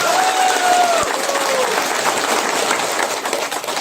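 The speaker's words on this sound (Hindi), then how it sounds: "एक बार जोरदार ताली बजा।" Crowd applauding loudly at a BJP political rally in Meghalaya, dense continuous clapping filling the whole stretch, with a brief whistle-like tone near the start.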